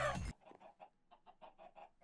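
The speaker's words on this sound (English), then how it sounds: "Did I just hear chickens? I think I just heard some chickens." Chickens in Minecraft clucking softly, a run of short, faint, evenly spaced clucks following a brief louder noise at the start.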